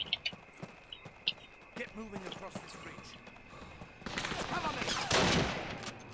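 Sharp bursts of gunfire crack in Call of Duty: United Offensive, a few isolated shots early then a dense, loud volley near the end, with faint speech underneath.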